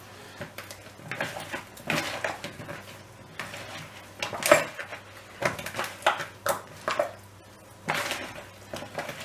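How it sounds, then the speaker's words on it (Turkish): Potatoes being tossed with oil in a bowl, a series of soft irregular scrapes, taps and clinks of a utensil against the dish, close and fairly quiet, with no talk. "Sıvı yağla da karıştırıyoruz."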